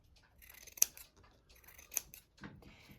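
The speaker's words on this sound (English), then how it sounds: "you're going to take fabric scissors and just create a" Fabric scissors cutting a fringe into the bottom of a sock for a soda-bottle snowman craft: close, crisp snipping with two sharp blade closures and softer rustling cuts between, no talking.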